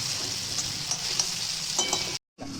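Tomatoes and green chillies sautéing in a pan for a village-style tomato chutney, a steady soft sizzle with faint stirring scrapes throughout, briefly cutting out before resuming.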